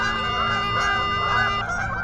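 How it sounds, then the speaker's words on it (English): Geese flying past over a reservoir beach: a dense chorus of overlapping honks that continues throughout at moderate distance and fades slightly near the end. "Wait for the geese to fly by."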